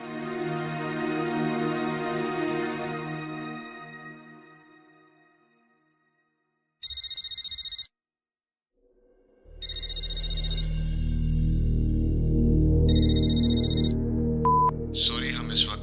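A telephone ringtone sounds in three short, bright repeated bursts, separated by pauses, over sustained melodic background music in a domestic drama scene.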